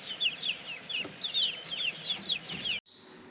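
A chicken chick hatched by a pigeon peeps rapidly and repeatedly, its high, insistent chirps close and continuous until they stop abruptly near the end.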